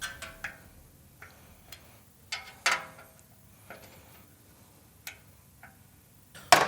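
Torque wrench ratcheting on motorcycle muffler bolts on a Milwaukee 8 Softail Fat Bob, tightened to 120 inch-pounds, giving a series of sharp, separate clicks at an uneven pace, close and clear over quiet background.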